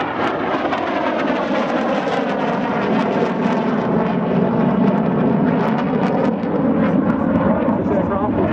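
A silver 1977 Saab Viggen AJS37 jet performs at an air show, its engine a loud, continuous roaring rumble with a slowly shifting pitch that suggests it is passing overhead.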